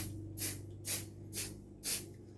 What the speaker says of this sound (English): I'm just going to do a little bit of spray on a couple of these.